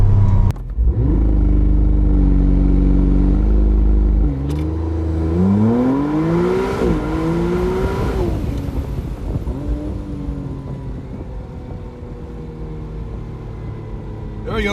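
A McLaren Artura Spider does a launch-control sprint from 0 to 60, with a loud, close engine note that surges, rises through gear changes and then eases into a fading whir.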